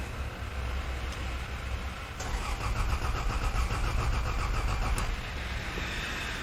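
Toyota Land Cruiser engine cranking over on the starter, a fairly quiet rhythmic churning that grows louder partway through and then eases slightly, heard from close by with no talking.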